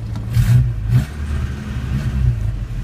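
A 1993 Nissan truck with a stalling-in-gear fault runs nearby, its engine idling with a steady mid-pitched hum and lifting in a couple of brief revs, with no talk.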